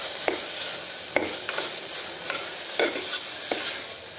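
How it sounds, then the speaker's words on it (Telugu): Spices and turmeric fry in a pan for green gram sprout kichadi, a soft steady sizzle broken by several sharp scrapes and clacks of a stirring spoon. "ఇవంతా బాగా ఫ్రై అయింది కదండి."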